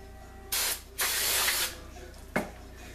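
Brake parts cleaner sprays onto a brake rotor of a 2002 Volvo XC70 in three close, hissing bursts: a short one, a longer sustained one, then a quick final puff, with a quiet pause between each.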